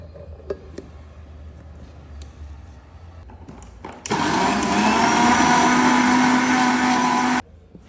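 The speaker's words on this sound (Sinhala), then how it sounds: "අපි මේ ටික බ්ලෙන්ඩ් කරලා ගමු" An electric blender whirs loudly for about three seconds, blending ingredients for a Sri Lankan black pork curry, starting and stopping abruptly after quieter kitchen handling noises.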